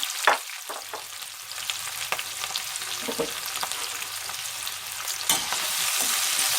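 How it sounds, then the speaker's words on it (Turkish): Onions and peppers sizzle steadily in hot oil, a continuous close crackling with occasional louder pops, no voices. "İlk olarak soğan ve biberler kavrulacak."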